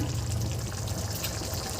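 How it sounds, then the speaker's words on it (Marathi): Water poured into mashed peas for ragda, a soft continuous pour and slosh heard close and alone for a moment. "आता यामध्ये आपल्याला जेवढं पाहिजे तेवढं थोडंसं पाणी घालून घ्यायचं आहे"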